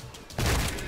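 A short loud burst of gunfire from the video game Trepang 2 rings out after a brief quieter moment, dense and close.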